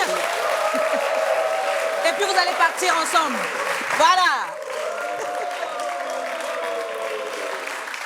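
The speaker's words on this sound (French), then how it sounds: "On va les applaudir." A studio audience at a French-language television talk show applauds, a fairly steady patter that runs beneath someone speaking for most of the stretch.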